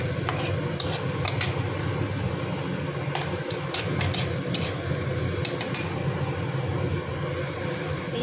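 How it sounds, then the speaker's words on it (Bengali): Cumin seeds and a dried red chilli fry in hot oil for a tempering, giving a steady soft sizzle with scattered sharp crackles and pops, close and continuous. "ওই তেলের মধ্যে আর একটু তেল দিলাম, দিয়ে একটু জিরে ফোড়ন আর একটা শুকনো লঙ্কা ফোড়ন দিলাম।"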